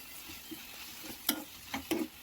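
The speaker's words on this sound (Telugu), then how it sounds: "లాస్ట్లో ఎండుమిర్చి అలా వేస్తున్నాను." Dried red chillies dropped into hot oil for raw mango pulihora, giving faint crackling sizzles with a few louder pops and stirring scrapes near the end.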